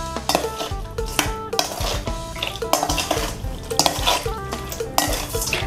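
Octopus tentacles tossed into a spicy Thai salad, with busy mixing in a bowl: repeated clattering utensil scrapes and knocks in an uneven rhythm, close and fairly loud throughout, no talking.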